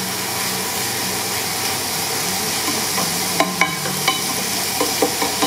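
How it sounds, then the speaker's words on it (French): Sliced veal sizzles and crackles in a hot frying pan, a loud steady hiss with scattered sharp pops and spits toward the end, no voices. "Quand votre poêle commence à chanter, vous entendez le petit pchit là?"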